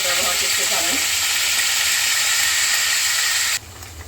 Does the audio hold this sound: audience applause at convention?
no